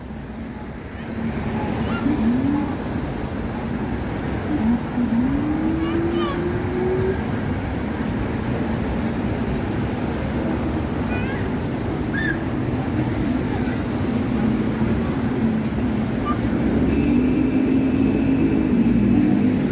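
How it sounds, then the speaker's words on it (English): An M15 city bus rolls along 2nd Avenue in Manhattan, a steady low engine drone with rising and falling pitch, close by amid constant street traffic noise for the whole stretch. "The M15 bus running down 2nd Avenue."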